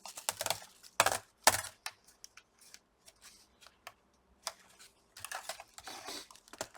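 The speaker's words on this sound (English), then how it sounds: "Now let's plug the keyboard." Small plastic clicks and taps come from a keyboard ribbon cable being plugged into its connector inside an opened Dell Inspiron N7010 laptop, in short irregular bursts, close and fairly quiet, with no talk.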